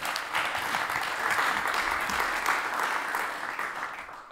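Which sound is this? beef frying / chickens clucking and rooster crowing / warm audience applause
warm audience applause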